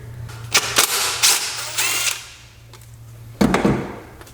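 A plastic pulley cover comes off a 2012 Subaru Forester engine. Sharp cracks and snaps of plastic sound close by over a faint steady hum, with a final pop near the end.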